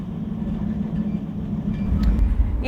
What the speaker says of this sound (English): I've been on this train today for at least 6 hours